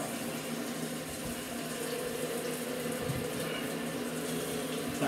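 Ice-cold shower water running, a steady, broadband hiss of spray that stays constant and close throughout with no pauses.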